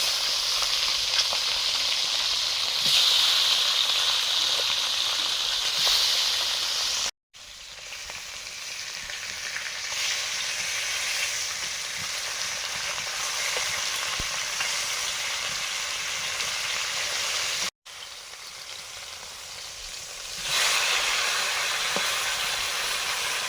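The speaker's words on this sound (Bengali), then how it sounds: "মাছগুলো ভাজছি এখন" Freshly caught pond fish frying in oil, a steady, loud, hissing sizzle that runs throughout, swelling a little at times and briefly cut off twice.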